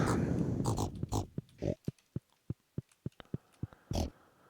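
Pigs on a farm in Stardew Valley give a run of short, evenly spaced grunts and snorts after a brief noisy burst, close and clear.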